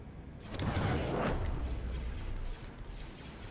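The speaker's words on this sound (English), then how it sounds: "Ion cannon firing." Ion cannon firing during a space battle in a Republic video game: a heavy booming blast swells loud, then a rumbling roar tails off and fades.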